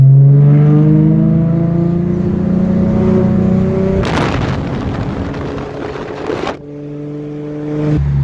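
A V6 Ford Mustang fitted with a Spectre cold air intake accelerates hard, its engine note climbing steadily, then a loud rough burst as it revs before easing and picking up again.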